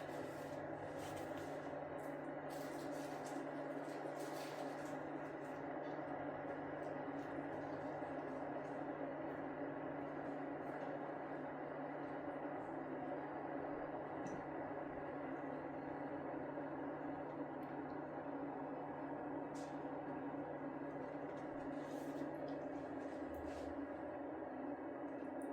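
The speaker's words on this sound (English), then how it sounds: "we can hear the sound, the water is boiling" A Keurig coffee maker heats water for a coffee pod with a steady, quiet hum and low rumble that runs unbroken throughout, with faint rubbing and hissing textures over it.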